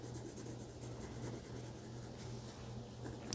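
A pencil colors garlic sprouts on paper during a kids' drawing lesson, a soft, steady scratchy scribbling close by, quiet and continuous over a faint low hum.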